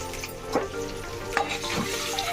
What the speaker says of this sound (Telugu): ఇదిగో ఇలా బాగా ఫ్రై చేసుకోవాలి. ఎగ్ని ఎంత బాగా ఫ్రై చేస్తే అంత బాగుంటుంది.